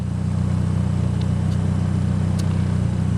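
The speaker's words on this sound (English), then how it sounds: "Idling at about 900 RPM, in that range." A fully built, boosted 2.3-liter stroker Mitsubishi Eclipse engine idling around 900 RPM, a steady low rumbling drone with an even pulse, close and constant throughout with no talking.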